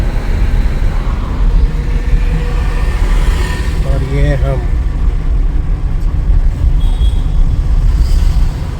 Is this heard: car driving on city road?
yes